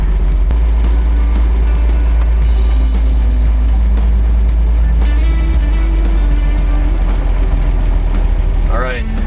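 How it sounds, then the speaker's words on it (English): A 1931 Chevrolet engine idles steadily and loudly throughout, with a low continuous rumble as the car is moved out of a garage and a brief rising whine near the end. "So I'm going to move a car out of the garage and put this in."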